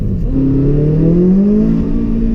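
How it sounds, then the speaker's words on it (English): A car engine revs hard during an attempted brake stand burnout, its pitch climbing and then holding at a strained, capped drone, loud and close with no talking. "You put your foot on the brake and you put your foot on the gas and it won't rev."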